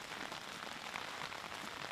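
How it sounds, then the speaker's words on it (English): Steady soft patter of rain falling on a tarp, a dense, even hiss of drops with no voices. "it's hard not to sleep well when you have rain sprinkling on a tarp"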